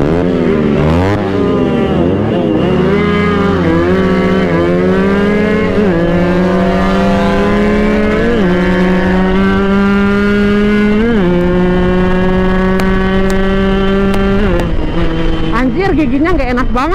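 A motorcycle with a stiff, unpleasant clutch revs steadily and loudly up close, its engine pitch climbing and dipping through several throttle changes over the whole stretch, with talk over the engine.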